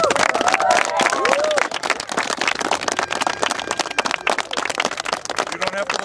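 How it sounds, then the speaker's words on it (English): A crowd applauds the coaches at a youth football Super Bowl win celebration for the Senior Canes after beating Lombard. Dense clapping runs throughout, mixed with whoops, cheering and loud overlapping voices. "give a round of applause to your coaches for all the effort they did"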